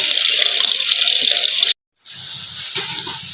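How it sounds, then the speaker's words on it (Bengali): Peeled pointed gourds (potol) are washed under a running tap, a loud steady gush that cuts out briefly and then resumes with hands rubbing the gourds under the stream. "পটলগুলোকে ভালো করে ধুয়ে নিতে হবে।"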